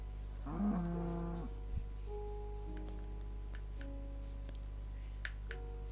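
A single Minecraft cow moos once near the start, a short tonal low call over a steady background hum, followed by faint ticks and a quiet sustained in-game tone, with no voices.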